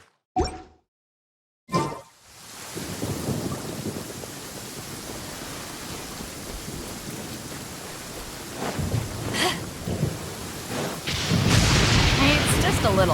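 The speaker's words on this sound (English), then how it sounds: "It's just a little lightning. No need to fear it on the open ocean" Stormy weather in the Genshin Impact game, with heavy rain hiss and rumbling thunder building after a brief quiet gap, broken by sharp crackling strikes, loud and continuous, with a voice speaking at moments.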